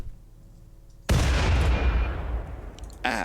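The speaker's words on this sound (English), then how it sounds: "Let's throw a grenade at them." A single grenade explodes in the video game RimWorld, a sudden loud blast with a long rumbling decay, followed by a short sharp sound near the end.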